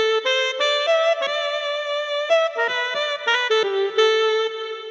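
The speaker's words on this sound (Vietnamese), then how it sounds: "Rồi âm sắc tiếp theo chúng ta sử dụng đó là tiếng saxophone." A synthesized saxophone tone plays a flowing melody of sustained, reedy notes, bright and close, with short gaps between phrases and no talking.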